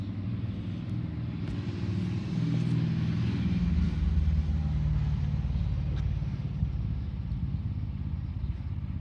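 A vehicle's engine runs at idle while a diagnostic scan is underway, producing a steady, close, low rumble that holds evenly throughout with no talking.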